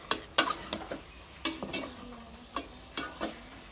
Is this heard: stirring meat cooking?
yes